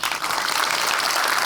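Audience at a Gujarati film premiere clapping for the producers, a dense burst of applause from a crowd filling the hall, with no speech over it.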